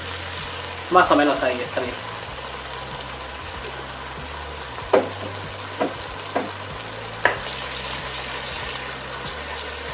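Beer poured into a Peruvian seco de pollo sauce sets off a close, steady sizzle and bubbling, broken by a few sharp clanks of a spoon, with a voice speaking briefly over it.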